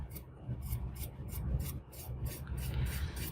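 A rough, textured brush is flicked upward across a painted tumbler in repeated quick strokes, making soft, close scratchy rubs that keep an even rhythm.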